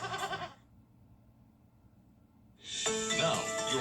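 Goats bleat in a TV advert: a loud bleating call at the start, then a near-silent pause, then another long, loud, wavering bleat.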